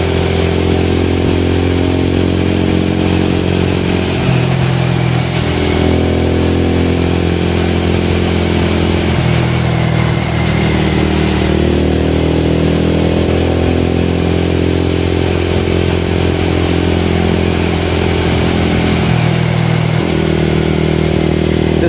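Steady, loud engine drone of vehicles on the newly opened six-lane NH 66 national highway between Mahe and Muzhappilangad, with a motorcycle-like hum rising and falling as traffic passes nearby, uninterrupted and without talk.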